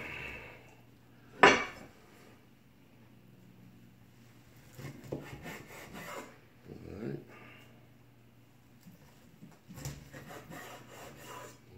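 A knife cuts into a rack of smoked, dry-rubbed ribs: one sharp clack, then scattered soft scraping and sawing against the board, with quiet murmurs in the background.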